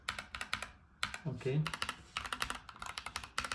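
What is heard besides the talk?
typing on Keychron K2 Pro keyboard with banana switches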